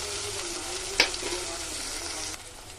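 Oil bubbles in a pan for liver curry, a continuous hissing sizzle with one sharp clink of a utensil midway. The sound drops slightly near the end.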